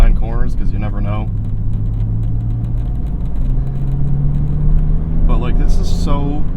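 A BMW M Coupe with the S52 engine cruises along a winding road, its steady engine drone and road rumble filling the cabin with gentle pitch shifts as speed changes, while someone talks over it at the start and end.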